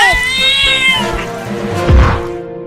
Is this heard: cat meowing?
yes